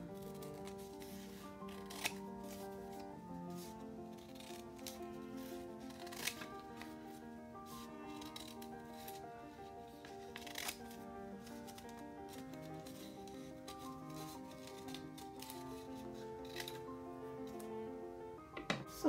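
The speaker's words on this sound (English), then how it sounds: "And then I'm going to carefully cut these out." Scissors carefully cut out paper shapes for a carrot seed packet design, a soft, continuous rustle of paper with small snips, faint and close, under light background music.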